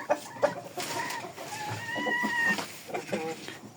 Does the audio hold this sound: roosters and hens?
yes